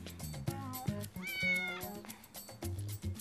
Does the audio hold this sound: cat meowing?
yes